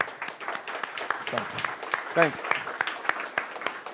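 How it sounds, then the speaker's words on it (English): An audience at a talk on GnuPG in Debian applauds, a dense patter of many claps at moderate loudness, with someone speaking briefly over it. "I think he deserves a huge round of applause right now."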